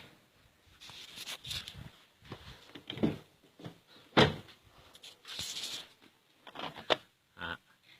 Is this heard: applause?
no